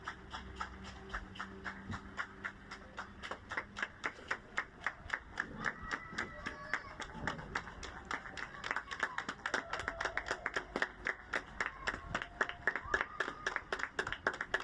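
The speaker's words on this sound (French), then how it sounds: "Ah, je crois que les applaudissements sont lancés." Neighbours applaud from their windows during a lockdown, heard from indoors as rhythmic clapping that grows more regular and stronger, with faint voices and background sounds mixed in.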